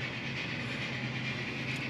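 An HO scale model locomotive of the I and GN Railroad, a Texas type super power engine, runs along track on a large display layout, giving a steady low rumble and hiss with no clear clicks.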